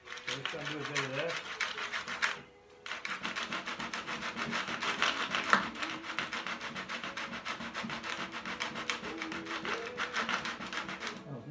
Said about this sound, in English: I've got a chunk of marble with sandpaper scrapped down, and I'm just going to marry this sandpaper to the surface